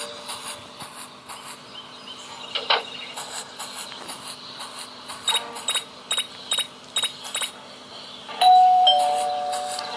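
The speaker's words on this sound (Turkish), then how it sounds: "Zili çaldım." Quiet mechanical clicks and ticks repeat at a steady pace, then a chiming doorbell tone in the video game Scary Teacher rings out and slowly fades.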